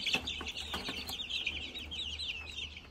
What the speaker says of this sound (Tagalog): Mga malaki yan na manok.